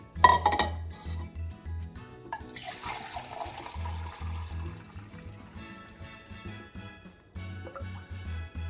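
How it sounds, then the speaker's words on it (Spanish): Water poured from a container into a measuring cup while preparing Maseca corn tortillas, a broad splashing, trickling pour over repeated low thumping beats in the background. "Le voy a vaciar el agua aquí para poderla medir."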